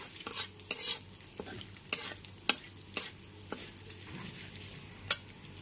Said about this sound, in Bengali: গ্যাসের ফ্লেমটা এখন লোতে রেখে ফোড়নটা হালকা করে ভেজে নিচ্ছি।